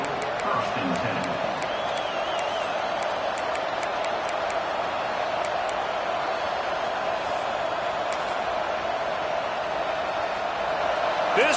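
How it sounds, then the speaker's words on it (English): Large college football stadium crowd at a Penn State versus Texas A&M game roaring in a sustained, dense wall of noise, with whistles and whoops on top and the sound rising slightly toward the end. "This crowd bringing the energy and noise early."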